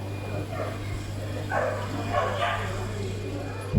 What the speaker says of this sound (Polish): Koty i też pieski